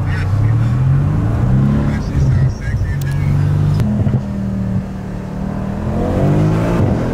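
A new car that replaced a BMW M3 revs and accelerates hard in a loud, rising engine drone that drops and climbs again, with people talking over it.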